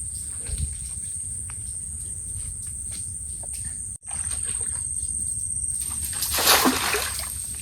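A hand cast net thrown into a small pond in the Sundarbans while fishing, landing in a broad splashing burst near the end, against steady insect chirring.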